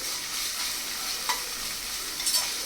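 Chopped onions sizzle in hot oil in a pan for a tomato curry, a soft continuous frying hiss broken by a few scraping stirs of a spoon, fairly quiet and close.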